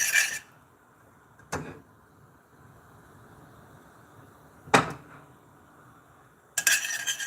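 Metal utensil clinks and scrapes against a pot while a watery tomato mixture is stirred, giving a few sharp isolated clanks separated by quiet pauses, close by with no speech.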